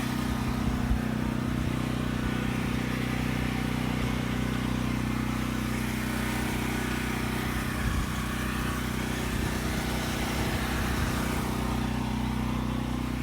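A DeWalt portable generator runs outdoors in a late-winter blizzard during a power outage, a steady low engine drone with a constant hum, continuous and fairly loud from nearby.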